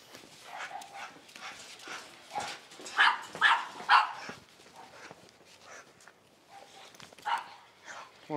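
A Rottweiler barks and whimpers in short, scattered bursts of moderate loudness, with quieter gaps between the calls.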